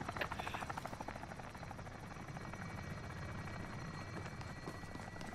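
A chopper gunner helicopter in Call of Duty Spec Ops gives a continuous rapid rotor chop with a buzzing engine whine, steady and fairly quiet, with no voices.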